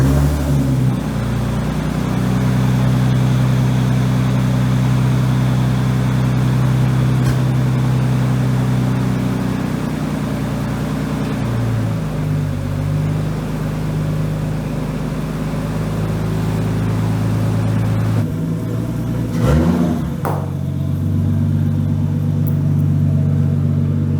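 A Nissan R33 with a new Greddy intercooler idles and runs with a steady, loud, close engine rumble and slight rises in pitch, with no talk over it.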